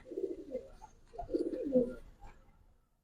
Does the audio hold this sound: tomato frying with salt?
no